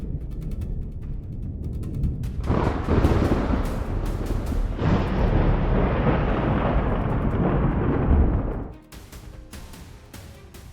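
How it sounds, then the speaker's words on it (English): Thunder rumbles through a storm, a loud broad roar that swells suddenly, holds heavily for several seconds, then drops away to quieter rumble and crackle, with no voices. "thunder tore across the sky like a warning scream of the disaster to come"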